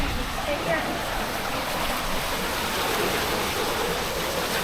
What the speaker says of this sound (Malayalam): അവിടെയാണ് വെള്ളച്ചാട്ടം